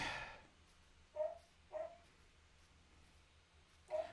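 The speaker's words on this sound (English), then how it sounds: "I'm sorry about my dog barking" A dog barking indoors: three short, sharp yips spaced a second or more apart, moderately distant and fairly faint over a quiet room hum.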